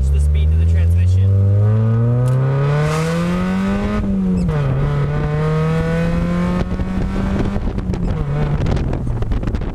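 A car engine revs up and settles again while the driver rev-matches a manual transmission. Heavy wind buffeting the microphone runs underneath, and the rising engine drone stays loud and close.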